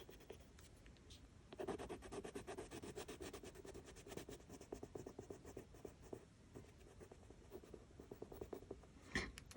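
Derwent Lightfast coloured pencil rubbing across paper in steady, close scratchy strokes, continuous and fairly quiet with no talking.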